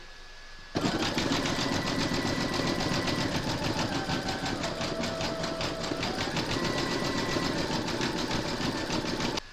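An embroidery machine stitches a brown-thread applique turkey tail for a quilted placemat, a loud, rapid mechanical whirring and clatter that starts abruptly and runs continuously before stopping.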